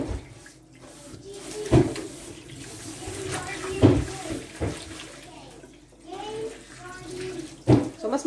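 Tap water runs and splashes while dishes are washed by hand at a home sink, with the flow surging and easing under steady talking nearby.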